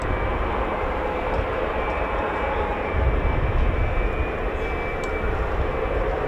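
A large KC-135 tanker aircraft taxis at RAF Mildenhall, its jet engines producing a steady loud roar with a high whine running through it, swelling slightly midway.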